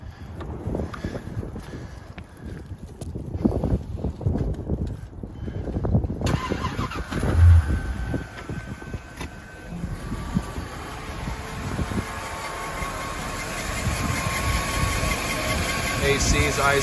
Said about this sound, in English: I'll go ahead and hit the key so you can hear it start off.